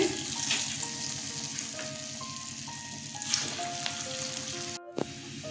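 Continuous close sizzling of chana dal dhoka frying in oil, with occasional clinks and scrapes of stirring.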